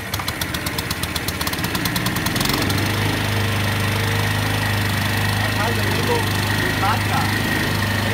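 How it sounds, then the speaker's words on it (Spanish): Engine of an OB 50 nut and fruit harvester running at nut speed, a steady loud low hum and rattling drone that settles after a clattering start, with someone talking in Spanish over it. "Puedes escuchar los ruidos del motor."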